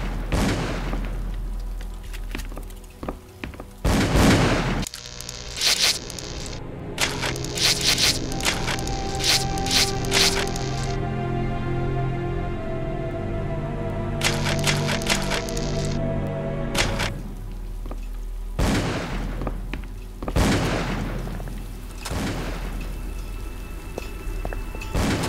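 Gunfire in Call of Cthulhu: Dark Corners of the Earth rings out as repeated loud sharp bursts in clusters, with booming reports and quieter gaps between volleys, over a low ambient background.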